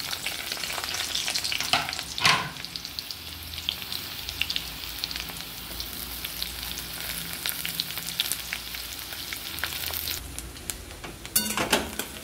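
Chopped onion frying in hot oil for a home-cooked chickpea vegetable dish, with a steady close sizzle, a couple of sharper spatters and faint stirring clicks throughout.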